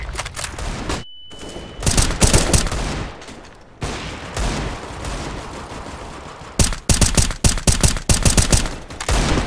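Shotgun blasts from the Shorty in a Valorant match, loud close shots in bursts, a rapid string of sharp reports near the end after quieter stretches of game noise, no talking.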